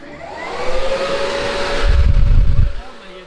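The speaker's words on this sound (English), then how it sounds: "Check out the fan." An electric cooling fan in an AE86 touring car build fitted with a K24 engine whirs steadily at close range with a sustained rushing tone that swells toward the end, under background voices.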